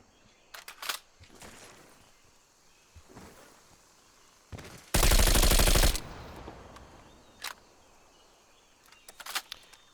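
Automatic fire from a DM Ultra rifle in a video game, one dense sustained burst of about a second standing loud between scattered sharp single shots and short bursts.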